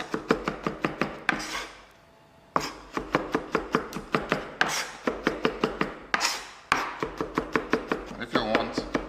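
Rough chopping of food such as garlic on a board, fast rhythmic knife thwacks in quick bursts with brief pauses between runs, close and fairly loud, with no voice over them.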